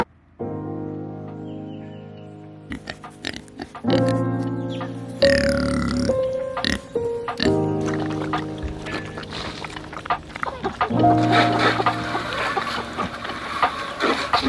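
Backyard chickens near their coop, free-ranging for the day, give repeated throaty clucks and squawks in short bursts at close range, with scattered rustling between calls.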